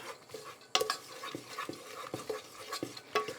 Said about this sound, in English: In with the chopped vegetables. Give them a stir around, get them all coated.